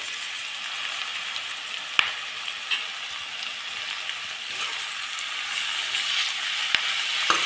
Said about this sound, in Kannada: ಸ್ವಲ್ಪ ಫ್ರೈ ಆಗಲಿ. ಫ್ರೈ ಆಗ್ತಾಯಿದೆ.